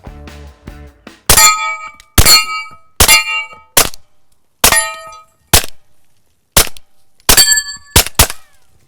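Suppressed shots from a SilencerCo Maxim 9 pistol in long configuration firing standard velocity ammo: about a dozen sharp, loud metallic cracks, mostly spaced at roughly one-second intervals, with a quick double shot near the end.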